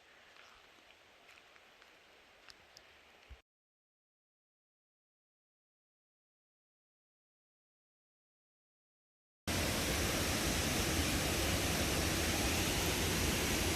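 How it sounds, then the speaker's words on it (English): Linville Falls waterfall off the Blue Ridge Parkway trail roars as a loud, steady, dense wash of rushing water that starts abruptly and holds without a break, after a quieter stretch of faint outdoor ambience and a silent gap. "I'm at the Linville Falls"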